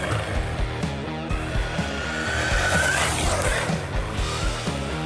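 An MJX Hypergo 1/14-scale RC car with slick tires runs on a dirt track at half throttle, its electric motor whining in rising and falling pulses, fairly close and continuous, with no talk.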